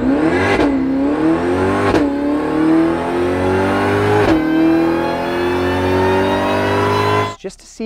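A supercharged C8 Corvette with a ProCharger kit revs hard through the gears on a dyno, the engine note climbing steadily with sharp breaks at each shift, loud and close, then cutting off near the end.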